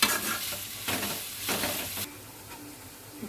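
Onions browning in oil in a kadai give a steady, close sizzle, broken by bursts of scraping as they are stirred with a spoon against the pan.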